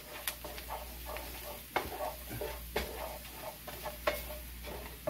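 A spoon scrapes and clicks in a pan while flour is stirred in as a thickening agent, the soft taps steady and faint over a low sizzle, with no talking.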